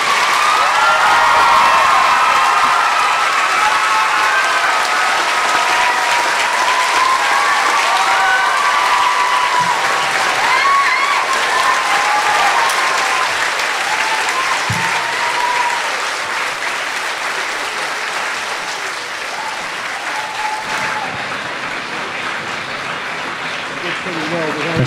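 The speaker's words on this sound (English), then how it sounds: "Can we have a round of applause?" At a girls' high school event, a large audience keeps up a dense, loud, continuous round of applause and scattered cheering that slowly fades near the end.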